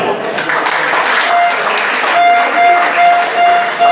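Steady applause from a crowd fills the clip, with a voice talking over the clapping.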